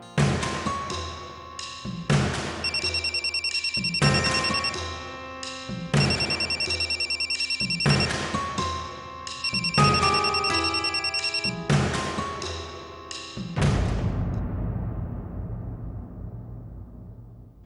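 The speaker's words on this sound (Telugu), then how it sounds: "ఏంటి ప్రణతి, ఎవరైనా ఎనిమిస్ ఫోన్ చేస్తున్నారా? అన్నిసార్లు ఫోన్ కట్ చేస్తున్నావు." A ringtone plays loud, repeating melodic chime phrases in regular two-second cycles, then stops and fades out.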